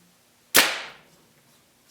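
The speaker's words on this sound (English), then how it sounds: "the sound you hear is the arrow actually smacking the target" A single sharp, loud smack as an arrow from a 2012 Mathews Heli-m compound bow strikes a target, with a quick decaying rattle afterward, then near silence.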